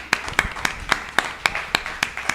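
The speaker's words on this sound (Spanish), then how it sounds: "Me gustaría, por favor, que dierais un aplauso." An audience claps for Adri, the founding first president of the Alipod association, at a gaming event. The claps land in a quick, even rhythm, with sharp repeated strikes at moderate level and no voices over them.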